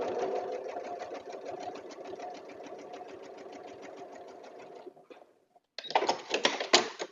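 A sewing machine fitted with a regular foot stitches a quilt block in a fast, even mechanical rattle, then pauses briefly before a louder closing burst of stitching.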